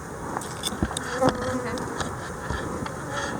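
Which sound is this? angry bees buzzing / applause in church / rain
angry bees buzzing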